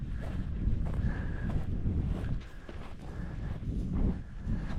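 Wind gusts buffet the microphone on a fishing outing, a continuous low rumble that swells and dips in strength throughout.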